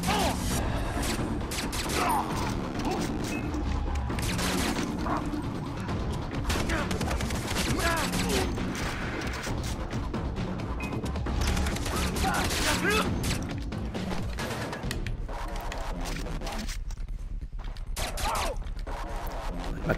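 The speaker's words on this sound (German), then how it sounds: "töte so viele Gegner wie möglich mit allen verfügbaren Waffen" Dense, continuous gunfire from several weapons in the shooter game Far Cry 3, with mechanical clatter and reloading clicks throughout and occasional talk underneath.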